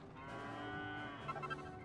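A cow moos in the video game Dragon Quest 8, one long sustained low call with a rough, wavering tail, heard alone with no talk.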